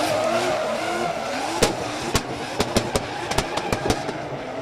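Drift car at an Oman drift championship battle over-rotating, its engine roaring under a continuous squeal, with a run of sharp tyre chirps and bangs toward the end, loud and close.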